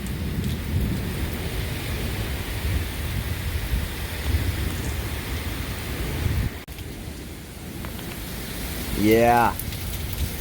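Thunderstorm on Dauphin Island, Alabama, with heavy rain pouring steadily and low rumbling thunder rolling underneath; a voice speaks briefly near the end.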